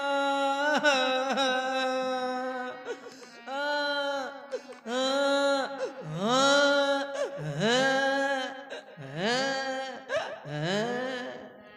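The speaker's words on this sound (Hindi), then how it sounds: "आज मेरे महलों में किसी स्त्री की रोने की आवाज" A woman wails loudly and tearfully in a staged Ramlila play performance, with long sobbing cries that rise and fall in pitch in repeated bursts, close and continuous.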